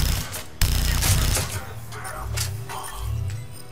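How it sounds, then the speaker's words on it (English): Gunfire in the Mass Effect 3 video game, loud rapid bursts of shots with shattering impacts, strongest in the first second and a half, then continuing more softly beneath a voice. "Just keep on shooting."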